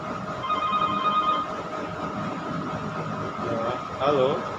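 A single electronic ring from an office telephone sounds near the start, short and fairly clear over a steady room hum, followed by a brief voice near the end.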